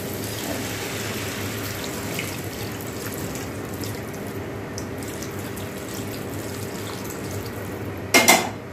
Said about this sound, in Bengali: এবার দেখো গরম জলটা দিয়ে দেবো।